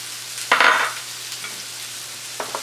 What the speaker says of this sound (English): It sounds like our shallots are starting to go here.